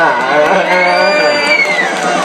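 A cheering crowd shouts and whoops in one sustained, loud burst of encouragement for a child on stage at a pageant.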